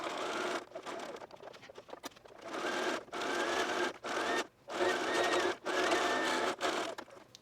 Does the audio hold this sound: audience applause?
no